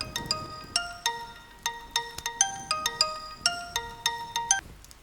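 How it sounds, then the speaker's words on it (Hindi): A phone ringtone plays a bright, repeating electronic melody of plinking chime notes in a steady rhythm, moderately loud and close, with no voices over it. "फोन आया है।"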